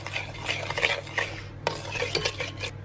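A spoon stirs sugar into melted butter in a bowl, making repeated close scraping and rubbing strokes with light clinks against the bowl's side.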